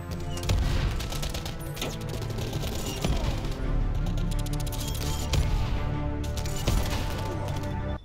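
Sustained rapid gunfire from Call of Duty Black Ops 6 team deathmatch play, dense automatic bursts with sharp cracks running almost unbroken and loud throughout.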